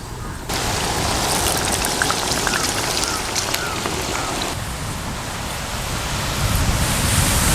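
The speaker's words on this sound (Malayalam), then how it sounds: "കാറ്റൊക്കെ വരുന്നുണ്ട്, നല്ല ഇടിയുണ്ട്, ഇടിവെട്ടുണ്ട്, നല്ല കാറ്റും വരുന്നുണ്ട്" Rain falls with wind as a steady, dense hiss that starts abruptly and swells slightly toward the end, with no distinct thunderclaps standing out.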